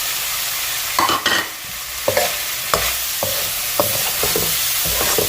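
Chicken frying in a pan with parsley, stirred with a utensil that scrapes and knocks against the pan in irregular strokes over a constant close sizzle; no voices.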